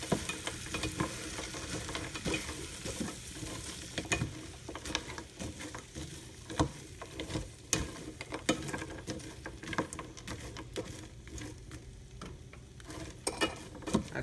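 Frozen vegetables and chicken stir-fry in a hot pan, a dense steady sizzle with rapid scraping and stirring throughout, close and continuous with no talking.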